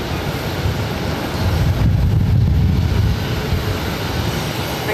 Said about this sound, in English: we got that Lufthansa A340-600 taxiing in front of our cameras here